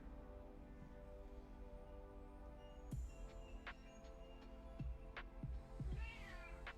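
A cat named Gannon gives a few short meows over a quiet indoor hum, soft and close, with small thumps and rustles between the calls.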